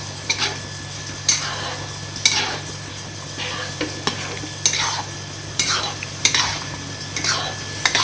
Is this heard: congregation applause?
no